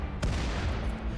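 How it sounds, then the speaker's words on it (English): A single sharp explosive bang in the Rimworld Odyssey video game, a sudden loud burst with a short rumbling tail over a steady background hum. "Explosion sound effect."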